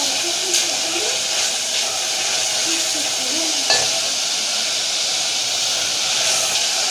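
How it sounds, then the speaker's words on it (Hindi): Goat liver masala frying on high flame for kaleji salan, with a dense hissing sizzle running steadily and a single sharp clink partway through. "देखिए ये अच्छी तरह भून रहा है"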